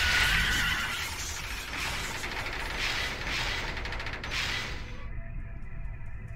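A horse neighs in the video game Devil May Cry 3, a loud, drawn-out whinny running for about five seconds over mechanical clanking and game ambience, then cutting off sharply to quieter background.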